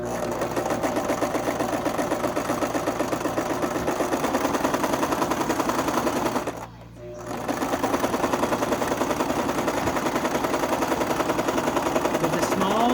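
Sewing machine stitching a cotton and lace quilt block with a small zigzag stitch, a fast steady mechanical patter close up that stops for a moment and then resumes at the same pace.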